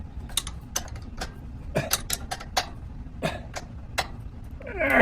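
A ratchet cranks a bolt tight while a Firman generator is being assembled, making a run of sharp, close clicks in uneven bursts, with a brief scrape at the end.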